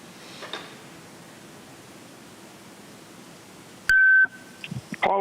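A phone-line call-in system at a county board of supervisors meeting plays a steady hiss, then one loud sustained electronic beep that cuts off abruptly, followed by a few short clicks.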